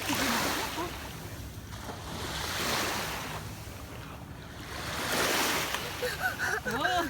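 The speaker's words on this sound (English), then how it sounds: "The way the tide's coming in." Ocean waves wash in as the tide rises along a shore, broad swelling surges rolling and receding under steady wind buffeting the microphone, with faint voices in the background.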